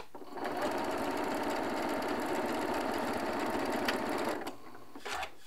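A sewing machine chain-pieces quilt fabric with a fast, even mechanical whir running close and steady for several seconds, then stopping, followed by a couple of brief handling sounds.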